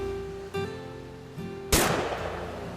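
A single sharp gunshot bursts out in the video game What Remains of Edith Finch, loud and close, following a steady tonal hum and trailing off into a noisy decay.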